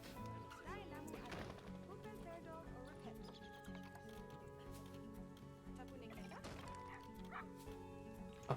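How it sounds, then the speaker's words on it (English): A young wolf pup in the zoo game Planet Zoo yips and barks in repeated short bursts, quiet and slightly distant, while a person talks over it. "I can hear the little pup."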